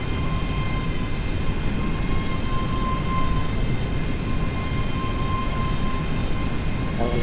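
A Class 385 train in Overground livery, in a train simulator, rolls slowly into Harrow and Wealdstone station with a steady, loud rumbling hum and faint high tones, while a voice talks quietly underneath.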